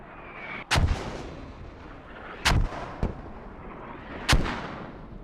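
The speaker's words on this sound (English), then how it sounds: "And here come some mortars." Mortar fire in a competitive military video game match, three heavy booming impacts spaced a couple of seconds apart, each a sharp loud blast with a rumbling tail over quiet ambient background.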